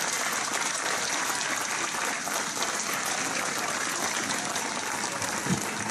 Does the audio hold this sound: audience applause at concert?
yes